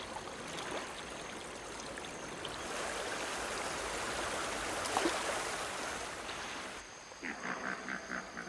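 A small river in Africa flows in a steady, continuous rush of water with soft trickling, swelling slightly in the middle before light rhythmic tones come in near the end.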